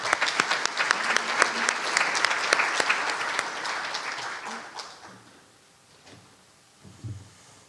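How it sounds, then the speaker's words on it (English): An audience at the University of Texas at Austin applauds a keynote speaker with a dense round of clapping that lasts several seconds, then thins and fades, leaving a few scattered knocks and shuffles. "Please give him a big round of applause"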